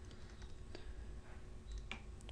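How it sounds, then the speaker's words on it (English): Code is typed on a computer keyboard, a quick irregular run of soft clicking keystrokes close by, with no talk over it. "So we'll type user salary equals console.readLine."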